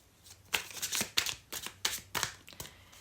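Tarot cards shuffled and a last card drawn, crisp papery riffles and slaps coming in about half a dozen distinct bursts, close and clear with no voices.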